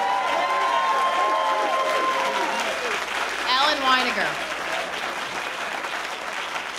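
An audience at a New York DEC public hearing in Loch Sheldrake claps after a speaker, a broad burst of applause that runs under and around a voice announcing the next speaker.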